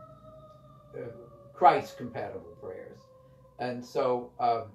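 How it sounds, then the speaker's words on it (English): A distant emergency vehicle siren passing by as a faint, steady wail that drifts slightly lower in pitch, heard throughout beneath a person speaking. "so there that a siren just went by"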